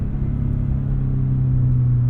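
Engine hum of a 2022 Subaru BRZ under way, a steady low drone with a pitch that climbs slightly as the revs build, heard alone without voices.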